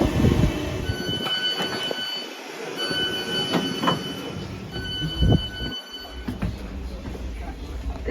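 An old Class 455 electric train in original Stagecoach livery runs along the line, a steady rolling rumble and rail hum with faint squeals and clicks of wheels over the track, fairly close and continuous throughout.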